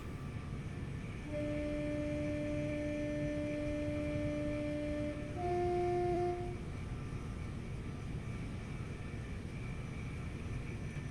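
A Gatwick Express train runs steadily along a London commuter line in Train Sim World 2, with a constant rumbling rattle and sustained whining tones that rise and then fade out.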